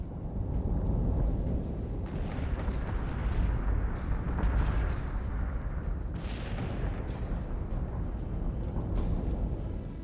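Torpedo volleys and ship weapons fire in a space battle in the BSG Deadlock strategy game: dense, continuous rumbling blasts and crackling bursts, loud and sustained throughout with no speech.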